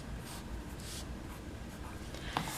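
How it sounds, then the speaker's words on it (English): A pencil scratches across a paper card template, soft continuous scribbling strokes close by in a quiet room, with no talking. "I'm going to go ahead and write on this little template"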